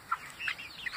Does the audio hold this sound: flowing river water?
no